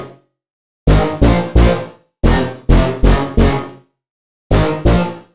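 A Vital synth bass remake, played dry without sidechain: loud, punchy bass stabs in short rhythmic bursts, each note sustaining then cut off, grouped in threes with gaps of silence between.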